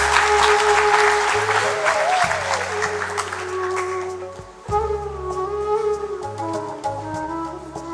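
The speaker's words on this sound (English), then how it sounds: "let's give a round of applause for all our Form 5 graduates" Applause for Form 5 graduates at a Shiva Boys Hindu College graduation ceremony swells at first, then thins out under sustained musical tones and low instrumental notes that carry on after the clapping fades.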